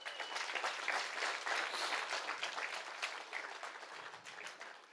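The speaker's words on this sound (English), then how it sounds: "Please, everybody give them a round of applause." A crowd applauds at a regatta opening night event, a steady, fairly distant wash of clapping that holds evenly and slowly tapers.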